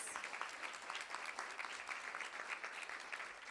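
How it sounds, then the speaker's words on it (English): A school board meeting audience claps steadily for a few seconds, a dense even patter of hands filling the room at moderate volume. "Let's give him a round of applause."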